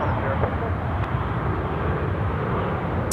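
Qantas Boeing 737 in a special livery landing at Sydney Airport, a steady broad low roar of jet engine noise held throughout, fairly loud and continuous with no talk.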